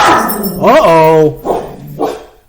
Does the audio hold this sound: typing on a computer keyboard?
no